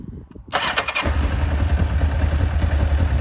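A Kawasaki KLE400 motorcycle engine cranks briefly, catches with a burst and settles into a steady, throbbing idle close by.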